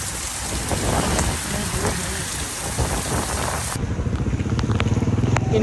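Steady heavy rain pours down during a 21 km half-marathon run, a loud continuous hiss with pattering drops, close and alone.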